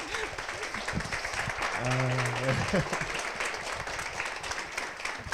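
Applause from a church audience, a continuous wash of clapping that runs under a man's short spoken word and some sustained voices or music in the middle.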